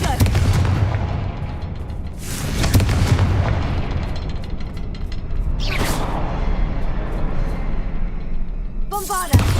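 Booming Confringo blast spells explode repeatedly in the game Hogwarts Legacy. Several loud, close detonations land about every three seconds over a dense rumbling background, and a sharp crackling burst comes at the end.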